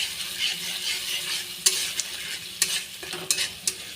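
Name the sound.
spice masala with yogurt stir-fried for katla fish curry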